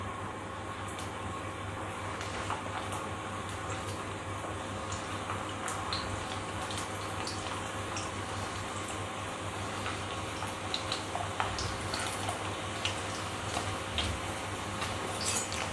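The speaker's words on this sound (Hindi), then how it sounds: "अब मैं इसको फ्राई करने जा रही हूँ।" Spinach and gram flour manchurian balls fry in hot oil, giving a steady, dense sizzle with constant fine crackles and pops, close and even throughout, with no talking.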